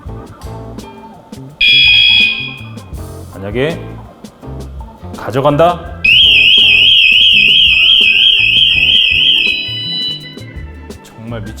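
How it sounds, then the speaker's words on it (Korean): Anti-theft alarm on an X-Rider X50 electric fat bike blares in loud, piercing electronic bursts, first a short steady tone, then a long warbling siren, with someone talking before and between. "정말 미친 듯이 시끄러운 경보음이 울리기 때문에"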